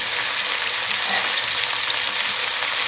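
Onion going into a hot pan of oil, with a steady, loud broadband sizzle holding evenly from start to finish and no voices over it.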